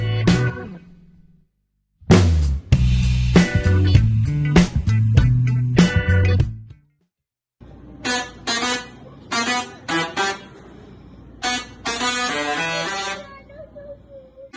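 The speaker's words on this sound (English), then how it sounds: "What you're hearing is a Tesla coil used to create music." Tesla coil playing the Super Mario 3 theme at a family museum in St. Louis County, a buzzing, horn-like electric tone in loud bursts of notes, pausing twice, then continuing in quick staccato phrases.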